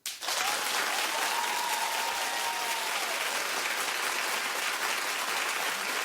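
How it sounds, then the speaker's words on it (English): Studio audience at a daytime talk show breaks into sustained applause, a dense wash of many hands clapping at a steady level from start to finish, with no talk over it. "Clap if you think she shouldn't have answered the phone."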